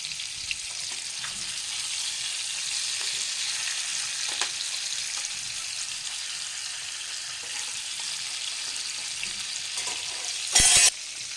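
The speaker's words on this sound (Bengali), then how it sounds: "এখন এপিট ওপিট করে মাছগুলোকে সুন্দর করে ভেজে নেব।" Rohu fish pieces frying in hot oil in a frying pan give a loud, steady hissing sizzle throughout, with faint pops and a sudden brief burst of harsher spattering near the end, and no talking.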